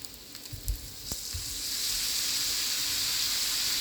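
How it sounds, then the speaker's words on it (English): Soy sauce poured into a hot pan of shrimp and chicken fried rice, with a few stirring knocks before a loud, steady hiss of sizzling swells up and holds. "So now guys, I'm gonna add my sauce, soya sauce,"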